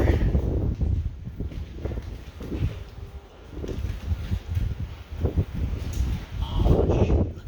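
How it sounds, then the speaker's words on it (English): Strong gusting wind buffets the microphone at an abandoned Detroit industrial site, rumbling and surging loudly in uneven waves with rustling throughout and no talking. "Man, that wind is whipping up."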